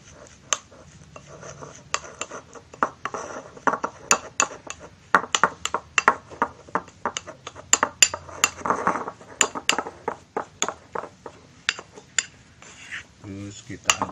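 A utensil scrapes and clinks against a bowl while a fishing bait mixture is stirred until smooth, with repeated sharp taps and knocks in an irregular rhythm, close and fairly loud.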